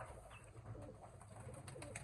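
Soft, low coos of pure and crossbred flying pigeons repeat a few times over a faint, steady background hum.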